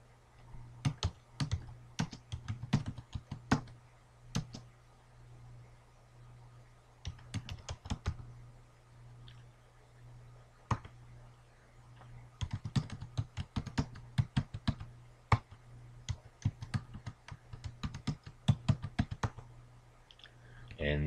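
Keys tapped on a computer keyboard while setting a user password on an Ubuntu server, quiet close clicks in irregular bursts separated by short pauses, over a low steady hum.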